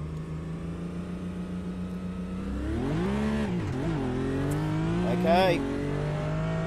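Race car engine in the Automobilista 2 driving game droning steadily, then revving and falling with gear changes and lift-off oversteer, loud and close, with a brief spoken word over it.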